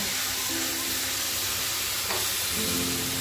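Washed masoor lentils tipped into a hot frying pan for dal chorchori, giving a steady close sizzle and hiss, with a faint stirring scrape partway through.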